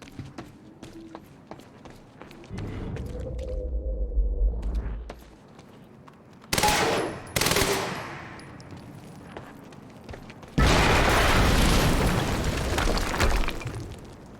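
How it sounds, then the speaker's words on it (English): Explosions in the Quantum Break video game near a harvesting perimeter, heard as sudden loud broadband blasts with crackling debris, the last one long and roaring, following quieter footsteps and a low rumbling hum. "we just heard an explosion near the harvesting perimeter"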